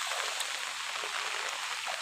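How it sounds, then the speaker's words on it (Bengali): Heavy monsoon rain falls on a wetland during net fishing under an umbrella, making an even, unbroken wash of patter and hiss. It sounds close and fairly loud, with no voices. "বৃষ্টির ভিতরে কই মাছ পেয়ে গেলাম"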